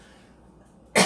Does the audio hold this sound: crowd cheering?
no